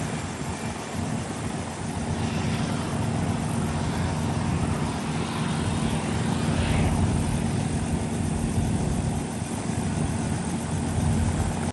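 Composite FX Mosquito ultralight helicopter flying at an outdoor fly-in, a steady, loud rotor and engine drone that holds for the whole stretch with slight swelling, no talking over it.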